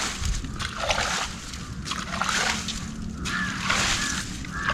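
Water trickles and sloshes over a rock surface at Vellamkettipaara, a close, irregular splashing in repeated bursts over a low steady rumble.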